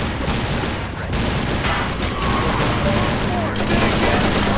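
Allied troops fire on the player in the video game TimeShift, a dense, continuous fusillade of rifle and machine-gun fire running throughout at a steady roar, with faint voice fragments under the shooting.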